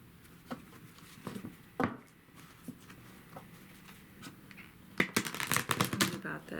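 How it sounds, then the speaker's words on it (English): Tarot cards being shuffled by hand in a quiet indoor room: scattered soft riffles and taps at first, then a dense, louder burst of rapid card flicking near the end. "Okay, I need to do a shuffle."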